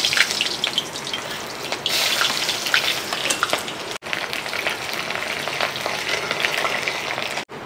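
Cumin and chopped onion sizzle in hot oil for a village-style chicken curry, a loud, steady crackling hiss that runs close and continuous with two brief dropouts.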